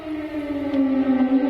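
Air raid siren sounding over Kharkiv during wartime, a steady wailing tone that slowly slides downward, moderately loud and carrying across the city with no voices.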